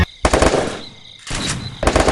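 Bursts of rapid automatic submachine gun fire in a video game PvP match, in quick succession, loud and close, with short pauses between volleys.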